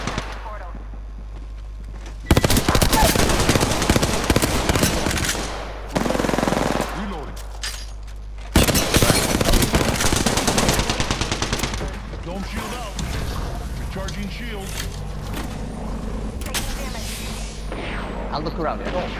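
Close automatic gunfire in a Hacksaw Ridge video game, loud sustained bursts of rapid shots broken by brief pauses, with more scattered shots and distant fire later and voices talking over it.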